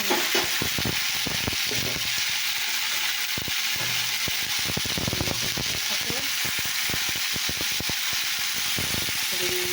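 A vegetable being stirred and fried in a pan, with a steady broadband sizzle throughout and frequent scraping, clattering strokes of a utensil against the pan, close and loud.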